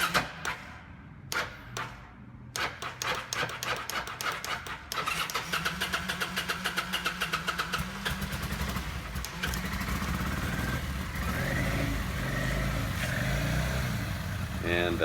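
A Kawasaki Vulcan motorcycle engine cranks after a battery change, with fast starter clicks and turnover before catching into a rough, sputtering idle that runs steadily close by.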